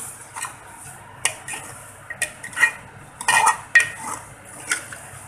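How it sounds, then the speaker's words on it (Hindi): Spoon stirring roasted black cardamom and cumin powder into mutton rogan josh in a metal pot, with sharp clinks and scrapes against the pot in irregular bursts over a faint sizzle, close and clear with no talk. "अब हम इसमें ये ऐड करें। और इसको अच्छे से हिला देंगे।"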